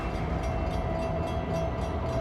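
Train moving along a railroad, with a steady close rumble of the wagons rolling on the track and a faint tonal whine throughout, no talking.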